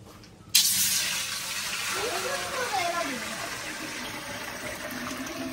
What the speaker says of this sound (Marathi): ते अर्धी बारडी पाणी ओततात